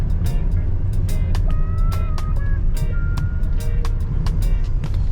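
Road traffic on Samal Island: a vehicle rumbles past at close range with a steady low engine drone, while sharp knocks and a few thin tonal beeps cut through.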